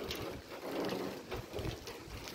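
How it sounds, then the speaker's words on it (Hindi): Strong wind gusting outdoors during cold rainy weather, a moderate buffeting rush with swells and dips, rumbling against the microphone, no speech. "ये देखिए फ्रेंड्स कितनी हवा चल रही है यहाँ पर।"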